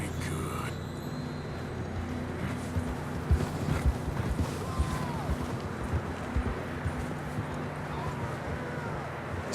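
Horses run across terrain in the Red Dead Redemption 2 video game, with a scattered clip-clop of hooves under a steady background rumble and voices talking over it.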